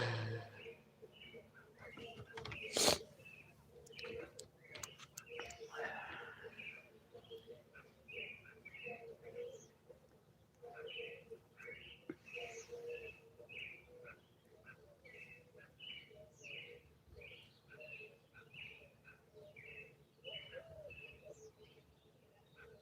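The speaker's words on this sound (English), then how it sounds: "Aren't the birds pretty?" Birds sing outdoors on a quiet morning, with scattered chirps and short calls repeating at a moderate distance and a soft coo among them, plus one brief louder knock near the start.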